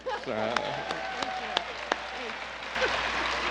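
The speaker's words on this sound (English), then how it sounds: "And now you can applaud." Applause from the audience at a museum conference keynote, fairly faint and diffuse, with a speaker's voice running over it and a few sharper claps or knocks standing out.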